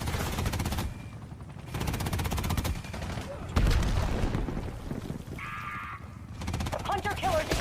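Rapid gunfire from a first-person shooter video game rattles in dense bursts, with short pauses between volleys and brief electronic blips from the game near the end.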